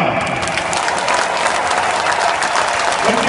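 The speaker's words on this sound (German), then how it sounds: "dafür ist der Applaus dann vielleicht auch umso länger" A large stadium crowd claps loudly and continuously during a football club's player introductions at an open stadium day, as a dense, even wash of applause with no break.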